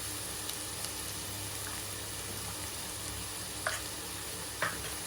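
Onions fry with green chilies and ginger garlic paste for a chicken kurma, giving a steady sizzle throughout with a few short clinks and stirs in the pan.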